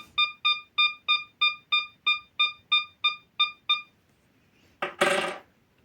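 An SDR metal detector set to a 12 kHz profile sounds a run of about eleven evenly spaced electronic beeps as it is tested on a coin, followed by a brief burst of broadband noise near the end.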